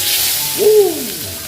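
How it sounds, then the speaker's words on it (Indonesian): Oil sizzles in a hot pan before vegetables go in for stir-frying, giving a steady, close hiss with a brief whistling tone rising and falling midway, and no talk. "kalau dilihat ada gemercak-gemercak seperti ini berarti sudah panas"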